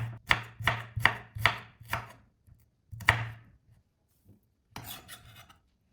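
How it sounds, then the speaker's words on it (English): A knife chops thin slices of peeled shallots on a board: a quick run of about six crisp, close strikes, a short pause, another sharp cut, then a softer scraping burst. "Peel the shallots, cut them into thin slices,"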